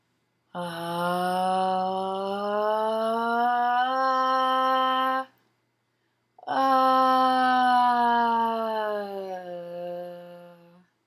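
A voice slides smoothly upward in pitch in a voice-exercise glide, holding a tone for several seconds, pauses, then glides again, clear and close.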